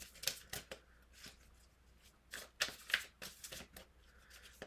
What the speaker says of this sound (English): Make sure we shuffle the whole deck here.